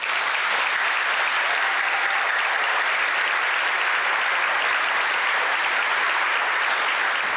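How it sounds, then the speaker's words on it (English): A graduation celebration audience claps for the graduates, producing a dense, continuous wash of applause at even loudness from start to finish. "give one final round of applause to our 2022 HandUp Graduates"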